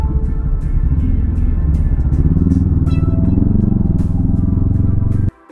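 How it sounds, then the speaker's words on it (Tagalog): Loud, steady road traffic on the way to the Cagsawa Ruins near Mount Mayon, with close motorcycle and car engines rumbling continuously before cutting off abruptly at the end. "So, traffic sa parting to, no?"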